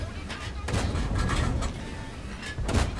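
Heavy tank cannon shots in World of Tanks, several booming rounds fired in quick succession over a rumbling battle background, with someone talking over them.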